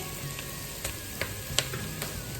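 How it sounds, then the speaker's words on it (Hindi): Seared goat trotters sizzling in a frying pot, a steady soft frying hiss with a few sharp crackles and pops spaced through it, fairly quiet and without any voices. "ये जो पाए थे जो सेके हैं मैंने, ये इसमें डाल देंगे"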